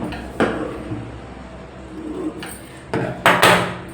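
Scissors cut through blouse fabric for the cross-cut front panel of a 40-inch blouse, giving a few soft, close snips spaced irregularly against a quiet background.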